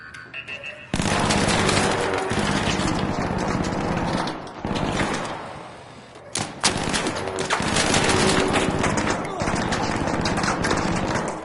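Rapid automatic turret fire in the sci-fi shooter ARC Raiders, loud, dense bursts of shots running almost continuously with a couple of brief breaks, close by and dominating the mix.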